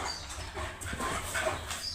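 A large old dog whimpers and whines softly in short uneven bursts, close by, amid indoor room noise.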